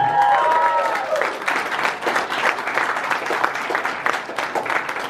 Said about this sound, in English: a big uh, cheer for all of you, a round of applause for your efforts